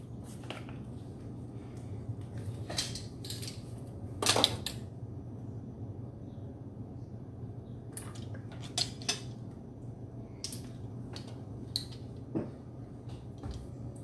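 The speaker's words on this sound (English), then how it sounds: "At this point, I really want to focus on scraping the mixture off the sides." Spoon or spatula scraping a cold porcelain clay mixture off the sides of a pan, heard as scattered clinks and scrapes at irregular intervals against a quiet, humming room.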